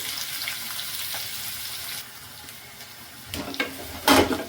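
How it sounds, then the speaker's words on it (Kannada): Onions fry in a pan for a capsicum curry, giving off a steady hissing sizzle for about two seconds. It settles quieter, then brief stirring clatters break through near the end. "ಈರುಳ್ಳಿ ಕೆಂಪಿಗೆ ಫ್ರೈ ಆಗಲಿ"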